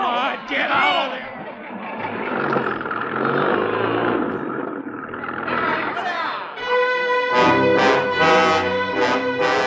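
A truck engine starts and drives away in a War of the Worlds radio drama, rising from a rough idle into a revving, rumbling pull-off while agitated voices shout over it.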